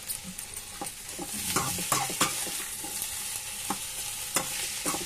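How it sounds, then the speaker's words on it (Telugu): Tomato and bitter gourd curry sizzles softly in a pan while a spoon scrapes and stirs it, giving irregular clicks and knocks over a steady frying hiss, close by and without talk. "మధ్యలో ఇంకోసారి ఇలా కలుపుకుంటుంటే మన కూర వస్తుంది"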